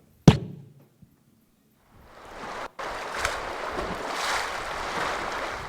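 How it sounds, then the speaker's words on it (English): A sharp knock, then silence, followed by steady rushing water and splashing as an inflatable rubber raft moves through the Yampa River, continuous and fairly close. "the boat splashes through the Yampa River"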